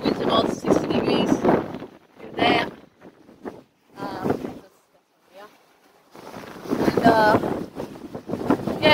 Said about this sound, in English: I'm just sailing very conservatively because I'm on my own.